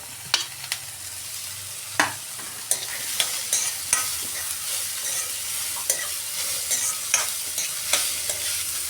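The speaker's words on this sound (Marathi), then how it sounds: "छान तेलावर परतून घ्यायचं आणि मग नंतर तो आळला की मग नंतर आपण त्यात बटाटे टाकायचे" Onions sautéing in hot oil for a potato curry, a steady close sizzle broken by repeated scraping stirs of a spoon against the pan, with no voices.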